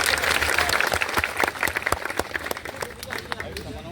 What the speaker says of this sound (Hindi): लखनऊ के जिला अध्यक्ष के लिए 14 तालियां हो जाए